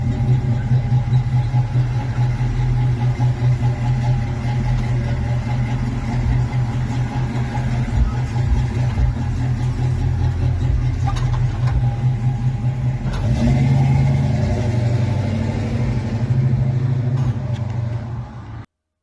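A 1972 Chevrolet El Camino runs steadily on a test drive, its engine giving a continuous mid-level drone with a slight swell partway through before cutting off at the end.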